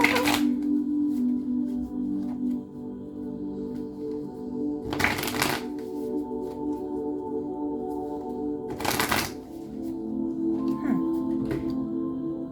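A deck of tarot cards is shuffled in several brief riffling bursts, spaced a few seconds apart, over steady background music.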